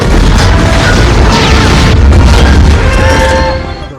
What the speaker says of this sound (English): Another fantastic explosion.